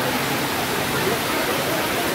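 Heavy rain pours down on the Yavat weekly vegetable market, making a dense, steady hiss that stays loud and even with no break.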